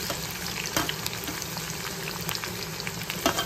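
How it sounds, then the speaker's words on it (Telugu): Chopped onions frying in hot oil for a chicken dum biryani, a continuous dense sizzle and crackle close by with small pops, no talking. "ఇప్పుడు ఈ ఆనియన్ దీంట్లో వేస్తాను. ఇది గోల్డెన్ బ్రౌన్ కలర్ వచ్చి వరకు ఫ్రై చేసుకోవాలి."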